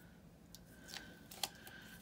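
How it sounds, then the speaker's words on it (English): Scissors cutting a sheet of paper in half at a desk during planner decorating, a few quiet, crisp snips close by against a soft background hum. "yellow ones, I'm gonna cut it in half."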